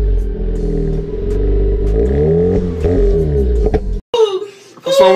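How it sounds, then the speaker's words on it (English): A Mazda RX8 Series 1 rotary engine revs up and down several times, close and loud, with rising and falling whines. The engine then drops off sharply and a voice speaks over the quieter end. "Let's rev it."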